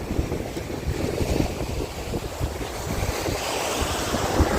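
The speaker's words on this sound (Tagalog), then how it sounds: "Grabe pa rin ang hangin talaga." Strong wind buffets the microphone in constant, loud rumbling gusts, with a surf-like roar behind it and no talking.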